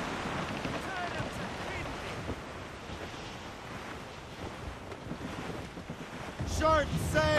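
A sailing ship pushes through open sea in wind and a squall in Assassin's Creed Rogue, with steady surf, wave wash and gusting wind, plus a brief creaking or call near the end.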